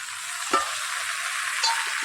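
Pumpkin and greens frying in a pan hiss with a steady, close sizzle, flaring briefly as spiced water is poured in and stirred. No one speaks.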